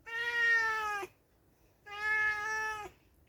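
Cat meowing twice, each call long, clear and near, separated by a short quiet pause.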